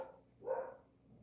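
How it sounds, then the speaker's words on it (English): A single muffled dog bark from upstairs, faint and distant, over a quiet indoor background. "I don't know if you can hear my dog barking up there."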